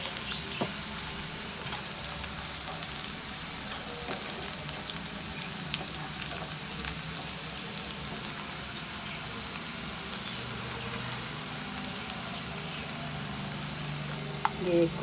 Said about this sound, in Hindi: ये देखिए प्याज फ्राई हो गई है।